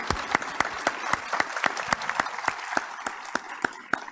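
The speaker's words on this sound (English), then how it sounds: "Please give them all a round of applause." A small audience at an evening panel discussion claps in a sparse, distinct rhythm, with individual hand claps clearly separated rather than blending into a roar.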